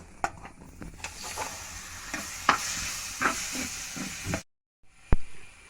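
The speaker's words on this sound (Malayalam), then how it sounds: "നമ്മൾ ആദ്യം വേവിച്ച് വെച്ച കപ്പളങ്ങ നമുക്ക് ഇതിലേക്ക് ഇട്ട് കൊടുക്കാം." Cooked papaya frying with chili powder in a pan is stirred, with a continuous sizzle and scraping, clinking strokes of the spoon, then a brief pause before one more sharp scrape.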